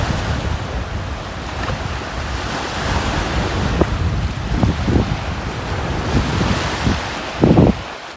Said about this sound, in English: This is one isolated beach